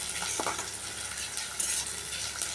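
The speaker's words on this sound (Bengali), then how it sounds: "এবার আমি দিয়ে দিলাম এতে রসুন আর হচ্ছে কাঁচা লঙ্কা" Garlic and green chillies fry in hot oil for egg dal, giving a faint, steady sizzle with a few light stirring clinks, close by and without talk.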